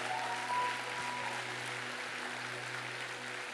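Congregation applauding in a church, a faint, even wash of many hands clapping over a steady low electrical hum.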